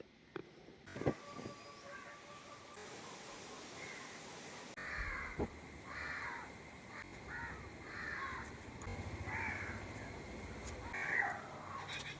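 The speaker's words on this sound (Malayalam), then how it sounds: "ഉണ്ട് ഒരു കാക്ക അവിടെ വന്നിരിക്കുന്നത്" A crow caws several times at a distance, harsh calls repeating over faint outdoor background noise.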